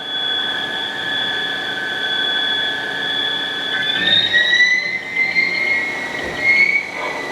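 A new 2012 Haas ST-40 CNC chucker lathe spindle runs up to about 400 RPM in high range, giving a steady whining hum with high tonal lines that rise in pitch as it speeds up.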